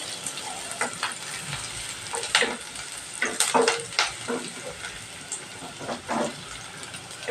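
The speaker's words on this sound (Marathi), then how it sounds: "हे आपण फोडणी चांगली तयार करत आले" Spices temper in hot oil in a single cooking pot for a pithla and rice meal, giving a continuous close-up sizzle and crackle with sharper spitting bursts scattered throughout, no voices over it.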